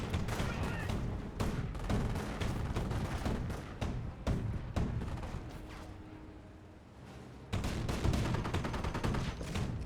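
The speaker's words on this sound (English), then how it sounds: "You now have the 2-2 taking a bit of fire." Gunfire and explosions in a Company of Heroes battle, a steady crackle of mixed small-arms shots with heavier booms throughout, dense and continuous with a brief lull near the end.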